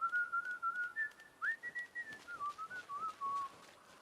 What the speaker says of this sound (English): That is a strong whistle